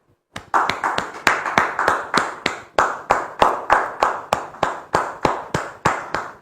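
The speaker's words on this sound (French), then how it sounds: "Sous vos applaudissements, s'il vous plaît." Loud, steady rhythmic clapping, close and sharp, welcomes a guest at a church gathering. The crisp claps fall at a regular beat of about three per second for six seconds with no talk over them.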